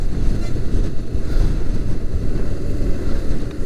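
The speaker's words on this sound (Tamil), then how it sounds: "அதே மாதிரி காற்று வேறு லெவலில் அடிக்குது காய்ஸ். சரியான காற்று, முரட்டுத்தனமாக அடிக்குது." Strong wind roars and buffets loudly against the microphone during a motorcycle ride on a long-distance trip from Trichy to Ladakh, with a continuous low rumble throughout and no voices.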